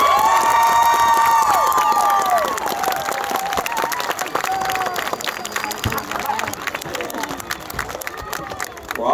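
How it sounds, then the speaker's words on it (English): A crowd at a high school graduation ceremony bursts into sustained applause and cheering for the graduates, with whistles and shouts rising over steady clapping that slowly thins out. "Let's give them all a huge round of applause."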